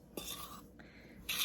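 Blueberries being gently folded into biscuit batter in a mixing bowl: a few soft, close scraping and stirring strokes with quiet pauses between them.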